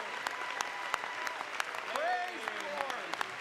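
A church congregation claps along with a steady, rhythmic beat, joined by voices calling out over the clapping, with a fairly full room sound.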